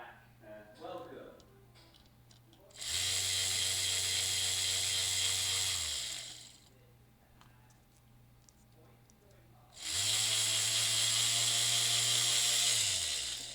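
A small electric motor driven through a DFRobot power shield switches on twice, each time giving a steady, loud broadband whir with a low hum underneath that cuts off abruptly, with quieter gaps between the runs.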